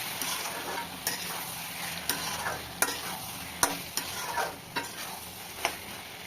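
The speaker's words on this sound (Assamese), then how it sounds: "মাজে মাজে এনেকৈ লাৰি থাকিব যাতে মছলাটো লাগি নধৰে তলত।" Chicken masala fries in a pan while a utensil stirs it, the soft sizzle running underneath as scraping strokes land roughly once a second, close and fairly quiet with no talking.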